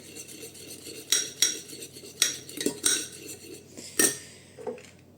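A spoon scrapes and clinks against a bowl in several short stirring strokes, close by and fairly quiet, with no talking.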